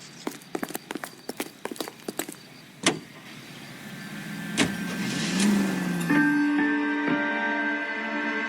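A car driving in the 1940s Los Angeles streets of the game LA Noire, opening with quick clip-clop clicks and thumps, then a low engine hum swells and settles into a steady drone with a faint whine.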